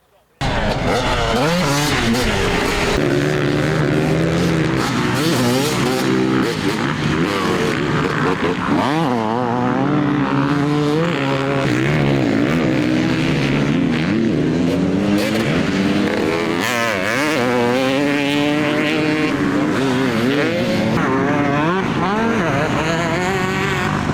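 A factory Husqvarna 250 two-stroke motocross bike, a 2002 British Championship and GP machine, revs loud and close. Its engine pitch climbs and falls continuously through the whole run.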